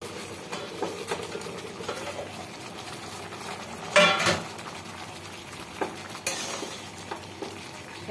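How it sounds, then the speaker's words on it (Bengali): Water bubbling in a pot on a gas stove while dal with raw mango cooks, a steady close simmer with occasional clinks of a utensil against the pot and no talk. "এইদিকেও জলটা ফুটতে শুরু করেছে"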